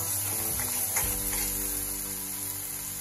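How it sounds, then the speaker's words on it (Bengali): Spice masala for pabda fish curry sautéing on a high flame, a low, steady sizzle and frying hiss close by, with a faint stir or clatter near the start. "এবার ভালো করে কষিয়ে নেব গ্যাসের ফ্লেমটা হাই করে দিয়ে"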